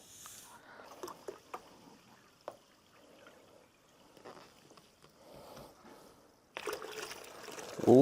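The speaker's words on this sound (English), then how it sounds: "bunch of seltzer water to give it that fuzzy bubbles" Seltzer water poured from a bottle into a pitcher of berry fruit punch, a quiet trickling and splashing with small clicks, swelling to a louder fizzing rush near the end.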